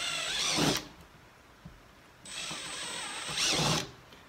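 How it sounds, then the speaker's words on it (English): An electric drill with a six millimeter bit bores out holes in a kayak tackle pod, whining in two short bursts separated by a quiet pause. "just pop a six millimeter drill bit into the drill and drill out where those pilot holes were"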